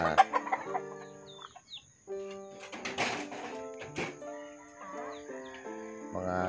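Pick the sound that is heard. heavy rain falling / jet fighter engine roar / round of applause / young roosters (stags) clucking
young roosters (stags) clucking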